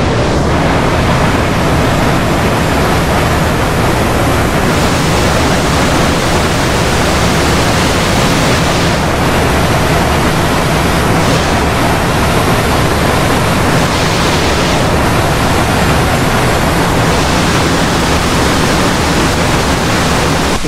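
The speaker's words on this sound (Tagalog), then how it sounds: "Lakas ng agos ng tubig." Loud, constant roar of a strong, fast-rushing stream on a waterfall trail fills everything, a dense steady wash with slight swells in intensity and no voices.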